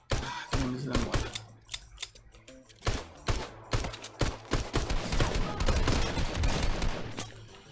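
Gunfire in a free-to-play Nintendo Switch shooter, dense rapid bursts and single shots cracking close and loud, almost nonstop.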